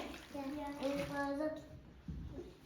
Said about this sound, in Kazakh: Тез еру үшін мен су құйдым, е?